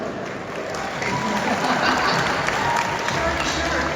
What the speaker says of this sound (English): Round of applause for Shark.